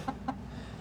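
Hens giving two quick soft clucks close together near the start, then quiet barnyard background.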